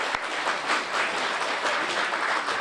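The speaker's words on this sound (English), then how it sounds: "Let's have a round of applause for Astrid." A crowd applauds steadily at the outdoor unveiling of a new MassDOT bus, the clapping even and sustained from start to finish.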